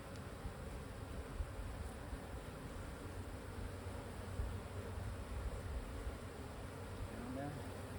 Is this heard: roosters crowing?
no